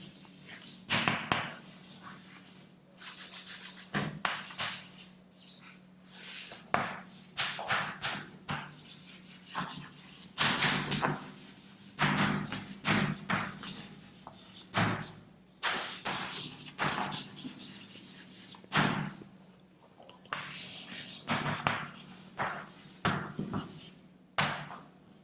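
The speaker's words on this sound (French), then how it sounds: "J'écris." A teacher writing on a classroom board for about 25 seconds, with bursts of chalk scratching and tapping, some sharper knocks, and occasional muffled room sounds. Nobody speaks over it.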